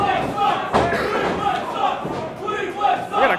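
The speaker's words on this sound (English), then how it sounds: "We got a Cleveland Sucks chant." Wrestling crowd at a lucha event chanting in rhythmic bursts, loud and reverberant, with shouting voices rising and falling over a few seconds.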